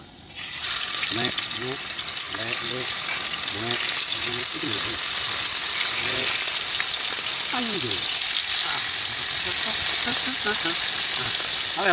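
Pieces of tilapia fish fry in hot oil with a steady crackling sizzle, while people talk over it on and off.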